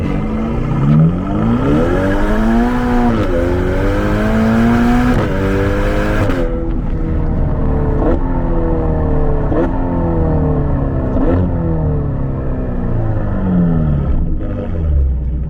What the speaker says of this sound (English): let's go ahead and start off with a little bit of an acceleration here, or should I say a lot of an acceleration